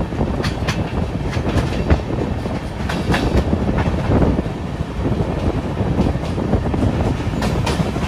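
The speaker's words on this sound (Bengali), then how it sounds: "খুব স্পিডে ট্রেন চলছে" Kamrup Express train running at high speed, a loud continuous rumble of wheels and carriage with rhythmic clickety-clack on the rails and wind rushing past, steady throughout with no talk.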